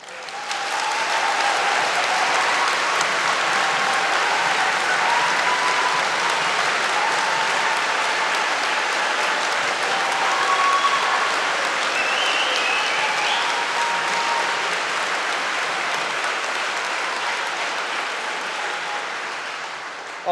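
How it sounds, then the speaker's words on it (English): A large graduation ceremony audience in London applauds loudly and continuously, a dense wash of clapping that holds steady for about twenty seconds before easing off. "I think the strength of that round of applause was probably those families saying, thank goodness it's over"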